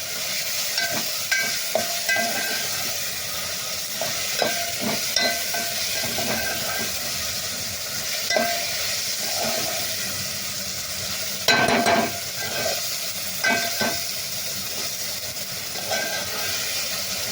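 Half a cup of sambar masala fries in a pan with a steady sizzle while a utensil stirs and scrapes it, giving repeated clinks and scrapes throughout, with no voices.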